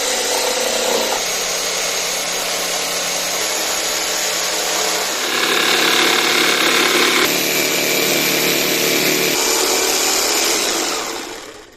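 A loud power saw cuts a doorway out of a plywood wall in a van conversion, whining steadily for about eleven seconds with shifts in pitch as the cut changes direction, up close and with no talking.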